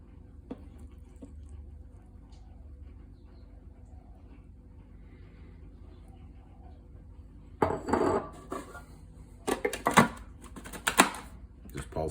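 Biscuits and butter pulsed into crumbs in a food processor: after a long quiet stretch, a cluster of short rattling, clattering bursts close by, uneven in spacing.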